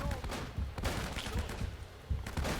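Gunfire in the video game Uncharted: Drake's Fortune, scattered shots and thuds in a busy mix, with a voice talking over it.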